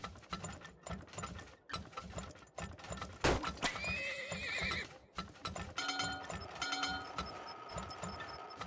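A horse whinnies loudly mid-clip while steady clip-clop hoofbeats and ratcheting mechanical game sounds run throughout, from the oil-drilling game Turmoil.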